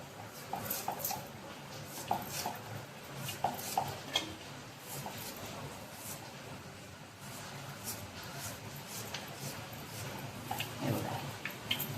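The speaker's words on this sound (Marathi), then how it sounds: "असा मी सगळा कांदा आता चिरून घेते." Onion is chopped finely with a knife on a board in a home kitchen, a steady run of quick, faint tapping knife strikes with a light background hiss.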